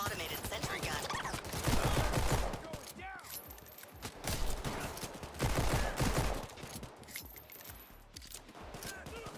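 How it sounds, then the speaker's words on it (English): Automated sentry gun in a video game firing in rapid bursts of loud gunfire, two long volleys separated by brief pauses, with some voice chatter in the background. "Please enjoy this automated sentry gun."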